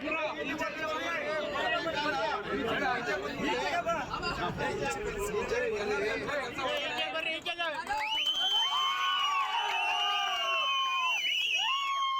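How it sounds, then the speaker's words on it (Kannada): Supporters of D. Krishnakumar cheer and shout slogans in a dense, loud crowd, with a few voices rising into sustained chant-like shouts near the end. "ಅಭಿಮಾನಿಗಳು ಸಂತೋಷ ವ್ಯಕ್ತಪಡಿಸಿ ಜೈಕಾರ ಕೂಗಿದರು"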